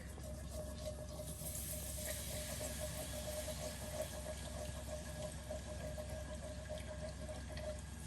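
Milk pours steadily into a cooking pan for a budget breakfast dish, a continuous soft liquid rush that stays faint and even throughout, with no voices.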